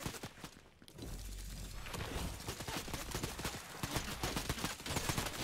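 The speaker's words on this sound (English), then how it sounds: "Freaking suppressed pistol." Suppressed pistol fire in the video game Fortnite comes as rapid, repeated muffled shots in a fast, steady stream, close and fairly quiet, with game ambience around them.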